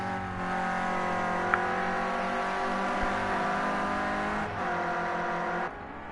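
A Renault Clio Cup race car on a twisty circuit, its engine note loud and sustained as it drives past, a steady high whine with a brief dip near the end.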